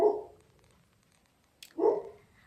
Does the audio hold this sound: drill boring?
no